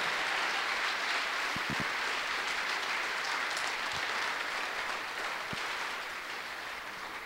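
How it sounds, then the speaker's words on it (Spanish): A church congregation applauds in a dense, continuous wash of clapping with a few sharper nearby claps, fading slightly toward the end. "Dale un fuerte aplauso."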